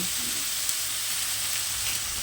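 Ginger garlic paste sizzles steadily in hot ghee for paneer biryani, a loud, continuous frying hiss with no voices over it.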